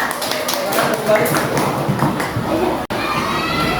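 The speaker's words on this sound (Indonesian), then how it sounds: "Tepuk tangan untuk kelompok 6." Fourth-grade primary schoolchildren in a classroom clap for group 6, a close, busy rattle of small hands mixed with children's chatter and shouts, briefly cut off near the end.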